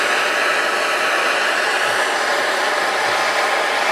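Torch flame soldering a copper moonshine still cone, a steady, loud, broadband hiss and roar with no breaks, close and alone without talking.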